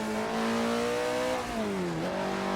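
A 1960s Alfa Romeo GTC revs in a racing game mod, its engine note loud and continuous, climbing steadily in pitch, then dropping at gear changes before rising again.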